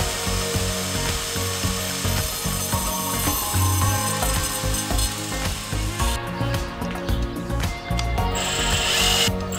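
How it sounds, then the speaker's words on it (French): A disc grinder cuts down long steel hinge screws for plywood cabinetry in a van kitchen build, a loud continuous grinding whine with rattling, dense throughout and shifting to a harsher, brighter cut in the final seconds. "je dois les raccourcir avec une meule à disque"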